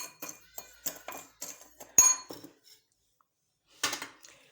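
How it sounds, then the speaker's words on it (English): A utensil beats broken eggs with salt and sugar in a bowl, making a run of quick, rhythmic clinks against the side. A sharp knock follows, then a pause and one more short burst of stirring. "I broke my eggs, and this is the salt that I'm just going to mix together with the sugar"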